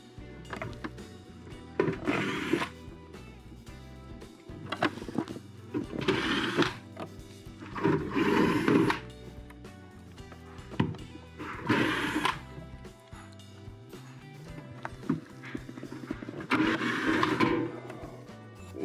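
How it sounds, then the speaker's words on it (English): A power screwdriver backs Phillips screws out of a Kenmore refrigerator's freezer evaporator cover, several short whirring bursts at close range separated by pauses, fairly quiet overall. "There's 6 Phillips screws that will need to come off."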